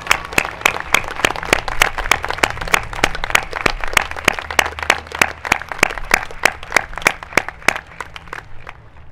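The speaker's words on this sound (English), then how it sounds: "Let's all give them a round of applause." At a school opening convocation, an audience applauds the maintenance staff with rhythmic, sharply defined unison clapping that stays steady and fairly loud throughout, with a few scattered claps around the beat and no talking over it.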